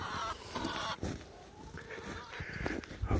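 Chickens cackle and cluck faintly in a snowy farmyard, scattered soft calls rising and falling with no talk.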